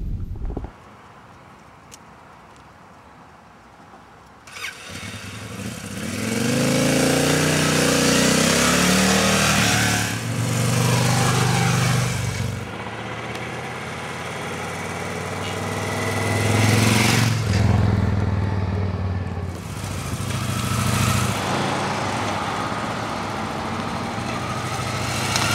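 A few seconds of quiet, then a Victory Vegas cruiser motorcycle engine starts and rumbles loudly, revving up and down through gear changes as it rides along, close.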